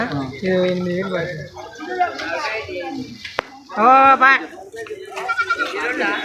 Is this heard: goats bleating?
yes